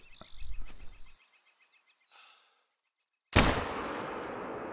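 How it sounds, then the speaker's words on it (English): A single sharp gunshot aimed at a turkey in the hunting video game The Hunter: Call of the Wild, bursting out loud after a quiet stretch of soft ambient forest sounds and decaying into a lingering echo. "So let's try and shoot the turkey."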